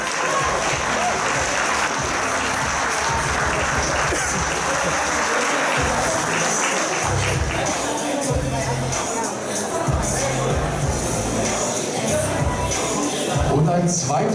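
Audience at a bodybuilding championship applauds loudly and continuously, dense clapping with crowd noise lasting throughout, with a voice speaking over it at times.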